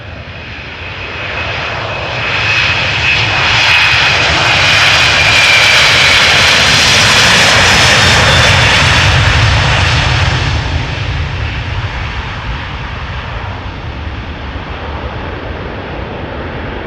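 A passenger airplane at Amsterdam Schiphol Airport roars loudly with a sustained engine drone that swells to a peak midway and then eases slightly, heard alone without talk.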